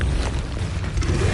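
Incendio fire spell cast in a video game, a loud, steady whooshing blast of flame and rumble filling the whole short moment with no pauses.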